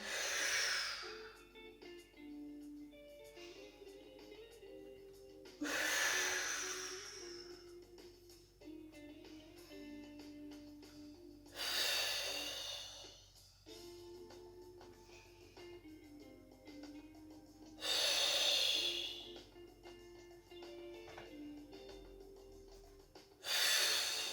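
Deep breaths drawn in and pushed out during a stretching exercise for cystic fibrosis, four long airy breaths spaced several seconds apart, each a loud rushing swell over quiet tonal music in the background.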